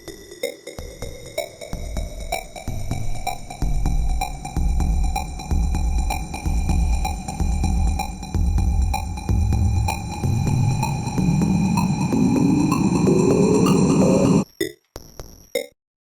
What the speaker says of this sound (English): just added in an echo, like a pin-pon delay, just to give it a bit more movement and depth